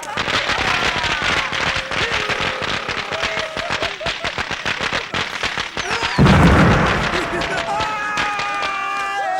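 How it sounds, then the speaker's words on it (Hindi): Rapid strings of firecrackers pop and crackle in dense bursts, with a louder boom partway through and voices shouting amid the noise. "पटाखे किस खुशी में जला रहे हो?"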